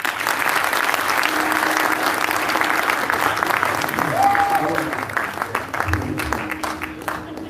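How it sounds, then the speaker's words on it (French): Steady applause from an audience at a prestige concert, dense clapping sustained throughout at a fairly loud level, with a faint voice and a brief tonal sound rising above it midway. "Merci de vous applaudir"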